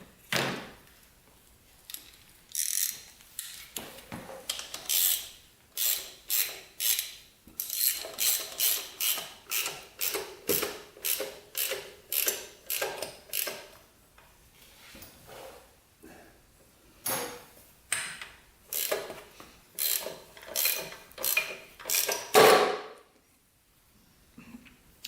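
A wrench is cranked clockwise on a 17 mm case splitter tool fitted to a Honda 400ex engine case, giving a long run of close, loud ratcheting clicks in quick bursts with brief pauses, and no talk.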